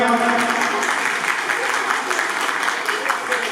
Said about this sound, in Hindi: तो आप भरपूर तालियां।